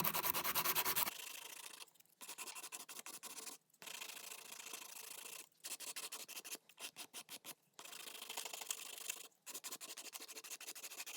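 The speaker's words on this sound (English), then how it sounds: "you can take the gel off of the nail by filing it" A nail file scrapes rhythmically back and forth, filing gel polish off a fingernail in close, dry rasping strokes broken by brief pauses.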